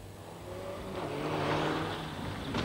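The number 6 Petronas rally car, driven on a dry, dusty track in hot weather, rises in engine pitch as it accelerates past nearby before easing off.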